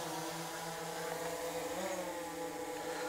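A DJI Mavic 3 drone hovers close by and then descends, giving a constant droning hum of spinning propellers whose pitch dips briefly during the drop. It sounds steady and near, with no voices.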